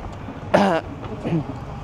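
A short, close cough followed by a second, softer cough-like sound, with faint background noise.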